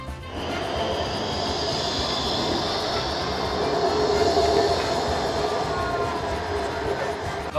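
Steady rumble of a train riding from Lucerne to Interlaken in Switzerland, heard from inside the carriage as continuous rolling noise with a faint whine, even and unbroken throughout.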